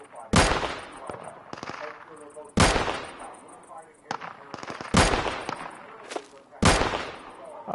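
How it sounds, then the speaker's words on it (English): Loud, close gunfire in the video game Deadside comes as four heavy shots spaced about two seconds apart, each with a ringing tail, with smaller rattles between them and speech under it. "Oh, look at those shooting."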